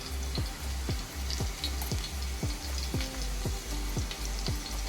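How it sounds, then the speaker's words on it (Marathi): Garlic frying in hot oil for a crispy baby shark fish fry: a steady sizzle runs throughout, broken by a regular series of sharp popping crackles about every half second, close and fairly loud. "तेल चांगलं तापलेलं आहे आता आपण त्यामध्ये लसूण टाकणार आहोत"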